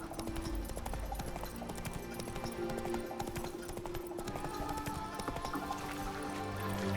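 Horse hooves clip-clop steadily along a road in The Witcher 3: Wild Hunt, a continuous rhythmic trot beneath low ambient game music, with a faint whinny possible.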